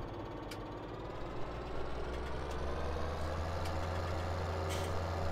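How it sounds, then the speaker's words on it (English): A tractor engine running in Farming Simulator 17, a steady low diesel drone with knocking, close and continuous, with faint clicks on top and no talk. "I'm really hoping this tractor can power this."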